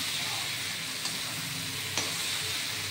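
Banana flower (mocha) frying in a pan gives a steady, close sizzling hiss throughout, with two brief clicks, moderately loud and with no voices.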